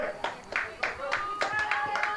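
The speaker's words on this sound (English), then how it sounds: "You can hear all the clapping." Spectators at a varsity field hockey game clap outdoors, with a loose run of about eight crisp, moderately distant claps over two seconds.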